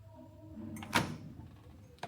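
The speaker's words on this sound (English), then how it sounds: "going through the fire doors" Fire doors in a seventh-floor hotel corridor swing open with a soft thud and whoosh, followed by a faint bump as they close, heard quietly at close range without talk.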